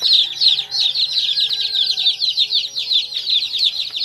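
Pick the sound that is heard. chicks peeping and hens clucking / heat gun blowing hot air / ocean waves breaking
chicks peeping and hens clucking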